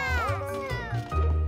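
A cartoon cat in a children's animated show meows in a bright, drawn-out cry with sliding pitch, close and clear, repeating across the moment, with a low musical bed underneath.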